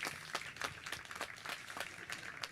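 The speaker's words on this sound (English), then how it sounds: "I just want to give Ollie a big round of applause for your dedication to these young people." Faint applause from an audience at a live community listening event, sounding as a thin, uneven series of separate hand claps from a few people, distant and quiet, lasting a couple of seconds.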